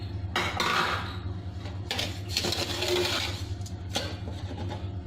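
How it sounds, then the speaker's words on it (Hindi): A spoon scrapes and clinks against a metal wok (kadhai) on a lit stove as sugar and water are stirred, giving repeated metallic strokes over a steady low burner hum with no talking. "अब इसको चलाएंगे ताकि चीनी घुल जाए।"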